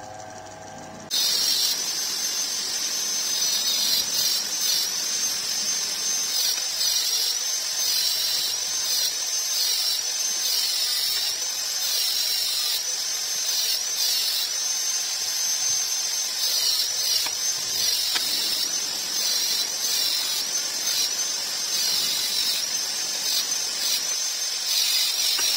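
A machining tool rebores the tilted cylinder liner seat of a Honda CBR 150R engine, making a loud continuous hissing, grinding whine that runs steadily and close, broken only by small changes in pitch.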